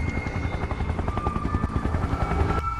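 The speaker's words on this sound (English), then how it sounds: "There's the helicopter." Helicopter in the video game SCP: Containment Breach, rotor blades chopping in a fast, steady rhythmic pulse, loud and close throughout, briefly dropping off near the end.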